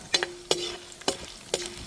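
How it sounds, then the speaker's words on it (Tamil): Oil sizzles softly as chana dal fries and a spoon scrapes and stirs the pan in several quick, separate strokes. "நம்ம கடலைப்பருப்பை போட்டு அப்படியே பொன்னிறமாக பொறிக்க போகிறோம்"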